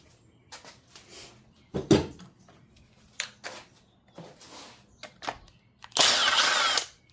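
A power tool works at a tight bolt on a 1990 Chevy 350 engine during a teardown, giving short separate bursts and clicks with pauses between them, then one longer loud whirring burst near the end.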